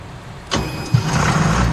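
A Ford tractor engine in Farming Simulator 19 cranks and catches after a brief pause, then settles into a steady, close idle rumble.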